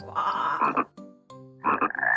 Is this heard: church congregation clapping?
no